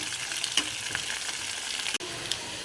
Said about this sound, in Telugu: ఇప్పుడు కరివేపాకు, ఎండుమిర్చి ఇవన్నీ కొంచెం వేగాలి